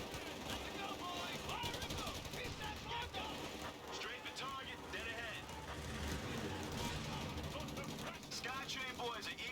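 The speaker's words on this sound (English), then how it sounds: "Let's call a strafing run on that." Strafing-run gunfire in the video game Company of Heroes 3: dense, continuous bursts of rapid shots and explosions fill the whole stretch, heard together with game sound effects while someone talks over the action.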